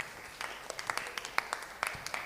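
A small live audience at a debate show gives its presenters a brief round of applause, made of scattered, fairly sparse claps at moderate distance.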